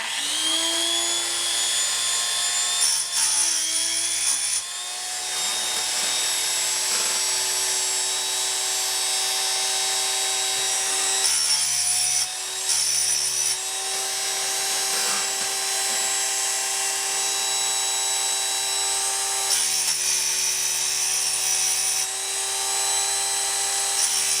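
A Timber Tuff chainsaw sharpener runs as a steady, loud electric whine while grinding chain teeth, with brief dips and breaks where it is lifted between teeth.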